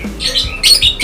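A songbird kept in a breeding colony gives harsh, close squawks in two or three loud bursts with brief gaps between them, and no talk is heard.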